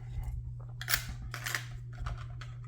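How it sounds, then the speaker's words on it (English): Scissors snip through paper, cutting out a small bird piece for a handmade card: several crisp, close cuts spaced irregularly, with quiet pauses between them. "what I do is I cut out a little piece of the birds that I wanted"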